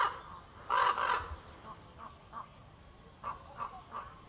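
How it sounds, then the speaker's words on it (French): Common ravens croak in an Atlas cedar forest at Ifrane, a loud cluster of harsh calls near the start followed by several fainter, spaced croaks over quiet background. "Au milieu d'ancestraux cèdres de l'Atlas, le croassement de grands corbeaux"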